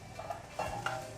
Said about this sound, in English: now that our oil is warm, I'm just going to add some onions